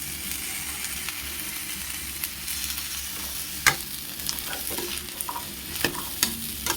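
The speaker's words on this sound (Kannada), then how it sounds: "ಈ ಥರ ಆಯಿಲಲ್ಲಿ ಫ್ರೈ ಮಾಡ್ಕೊಬಿಟ್ರೆ ಅದು ಅಳ್ಕೋಗೋ ಚಾನ್ಸಸ್ ಕಮ್ಮಿ ಇರೋದ್ರಿಂದ ಉಳ್ಕೊಳ್ಳುತ್ತೆ" Food frying in oil in a pan, a steady close sizzle with scattered sharp clicks and pops from stirring.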